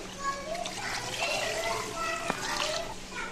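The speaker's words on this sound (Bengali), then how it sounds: "এখন আমি পানি দিয়ে দিচ্ছি।" Water is poured into a biryani pot holding rice and broiler chicken, giving a steady splashing trickle close by. Voices talk over it, including a child's.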